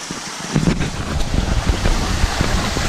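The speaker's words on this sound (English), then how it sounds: "The water just runs down on them, rains down on them, and then everything just being dumped back into the koi pond." Water rains down through a tall wet-dry filter over pot scrubber media and pours back into a koi pond, a constant loud rushing splash with no talk.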